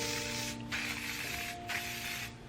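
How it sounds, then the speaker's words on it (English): Aerosol hair shaping spray hissing in two bursts, each roughly a second long with a brief pause between, close up and fairly loud over a steady background hum. "some shaping spray"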